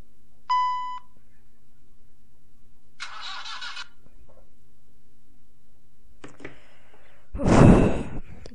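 A phone notification gives a short electronic beep with clear harmonic tones, then later bursts of noise follow, over a steady low hum with no talking.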